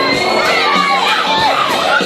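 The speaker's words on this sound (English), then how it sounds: "Listen to this crowd." A loud crowd at a professional wrestling show cheers and shouts, with many high voices screaming and whooping together in a dense, continuous roar throughout.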